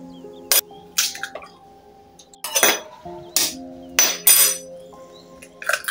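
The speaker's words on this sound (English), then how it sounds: "Now we get two eggs and crack them into our bowl." Two eggs cracked into a bowl in a home kitchen, heard as a series of sharp taps and clinks against the rim with wet drips and ringing tones between them.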